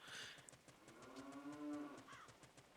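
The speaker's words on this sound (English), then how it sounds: "The Gwei's sound is cows." A cow moos in a long, drawn-out low call as a sound effect in an Ocarina of Time randomizer game, with brief game chimes at the start and a soft bleep near the end.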